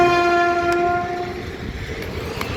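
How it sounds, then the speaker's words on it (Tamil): A train horn blares with strong steady tones for about a second, then fades into the rumble of rail cars rolling past, heard from a cricket match. "அழகான வேலை ட்ரெயின் போயிட்டுருக்கு."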